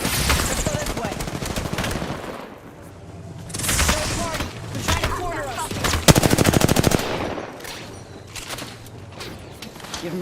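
Rapid gunfire crackles in the Dead Space video game, with bursts of automatic fire and sharp single shots between them, while voices call out over the battle.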